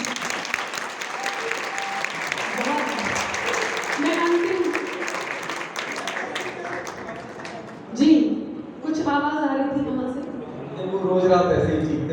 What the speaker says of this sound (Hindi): एक बार सारा सदन ताली बजा दीजिए